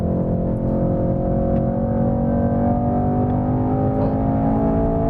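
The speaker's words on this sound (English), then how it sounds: "Look how stable the car is at 240 kilometers still." Mercedes E63 S AMG accelerating hard on a racetrack in Sport Plus mode, a loud, sustained engine drone with steady rising harmonics heard close from inside the car.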